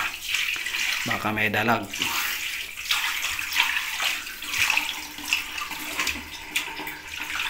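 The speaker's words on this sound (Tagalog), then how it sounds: "Itong buhos natin ng konti yung tubig para makita natin kung ano ang nasa loob." Water is poured from above into a clogged floor drain, a steady splashing gush with a brief gurgle, while someone speaks over it.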